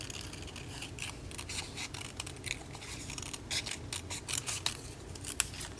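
Scissors cutting paper in a wavy line, a steady series of soft, close snips and crisp rustles, faint and continuous with no voices.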